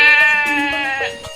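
Cartoon goat bleating in a long, wavering, nasal cry at close range, bright and loud, trailing off slightly toward the end with no talk over it.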